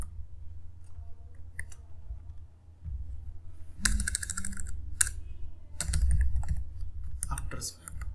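Computer keyboard typing and shortcut key presses while C code is written, in bursts of clicks over a steady low hum, with a voice talking in between.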